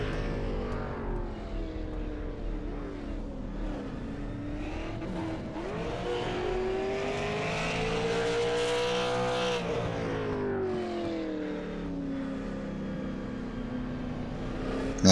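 The No. 14 race car's engine roars steadily through a qualifying lap at Martinsville Speedway during the 2018 Ice Bowl 200, rising and falling in pitch through the turns, loud and continuous.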